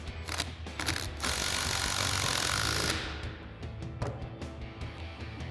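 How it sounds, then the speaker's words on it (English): An 18mm socket on a ratchet tightens the top hat retainer nut of a 2021–2023 Ford Bronco front leveling kit, rapid clicking pawl bursts, close and loud, with a sustained run in the middle. "we'll go ahead and tighten down our top hat retainer nut"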